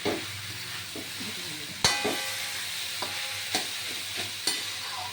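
Peanuts frying in a pan with sugar for a vegetable patty filling, a low steady sizzle broken by several distinct spoon scrapes and knocks against the pan, quiet and without speech.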